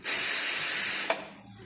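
Loud, steady hiss of steam escaping from a cooker for about a second, then cutting off abruptly with a small click.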